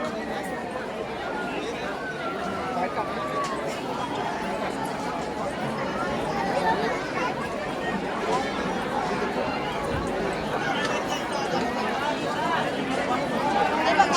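A dense crowd fills the grounds of Shree Jotiba temple in Kolhapur, a steady wash of overlapping voices and murmuring babble that stays fairly even throughout.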